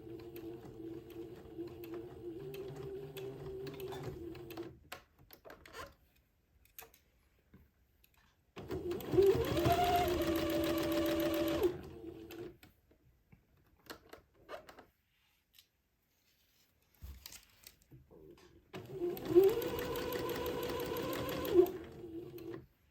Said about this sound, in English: I'm going to sew the entre-deux to the bottom of the hem, taking my pins out as I come to them.